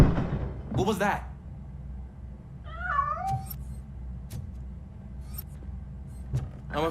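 A cat meows a few times in RoboCop: Rogue City, clear short mewing calls in the middle of the clip over a low game ambience hum, with a brief voice before the calls.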